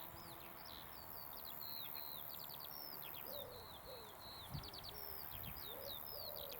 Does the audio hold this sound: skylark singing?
yes